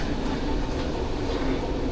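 Train at a station platform ahead of its 7:15 departure, a dense, even rumble of rail noise filling the short stretch without pause, fairly loud.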